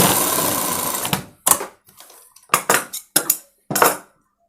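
Sewing machine stitching the collar of a school uniform coat, a long steady mechanical whir close by, then several short stop-start bursts of stitching separated by silences.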